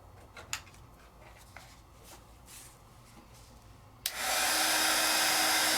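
A craft heat tool switches on abruptly after a few seconds of soft handling noises and blows a loud, steady hot-air roar, held over paint to heat-set it.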